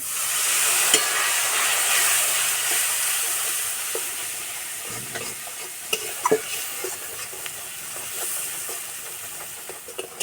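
A spice paste of cumin powder, turmeric, a little sugar and water fries in a pan for fish roe kofta curry, giving a steady close hiss and sizzle broken by occasional stirring scrapes and taps.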